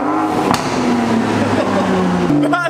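A straight-piped BMW M140i sits at idle, its exhaust giving a steady low drone with a slight change in pitch near the end, while someone talks over it throughout.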